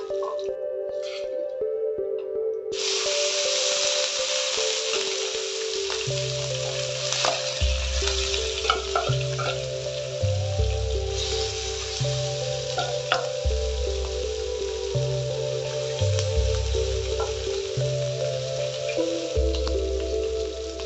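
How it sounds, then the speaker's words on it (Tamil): Prawns sizzle and crackle in hot oil in a pan, a steady, loud frying hiss with scattered pops and drips that runs throughout, alongside low rhythmic tones in the background. "நீங்கள் நிறைய எடுத்தீங்கன்னா கொஞ்சம் கொஞ்சமாக போட்டு ஃப்ரை பண்ணிக்கணும்"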